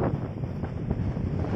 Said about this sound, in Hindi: इतनी खतरनाक हवा चल रही है